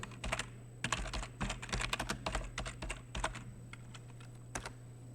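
Rapid, irregular keystrokes on a computer keyboard while a Lazarus form is being edited for a school practical, clicking in quick bursts with short pauses over a low steady hum, close and moderately quiet.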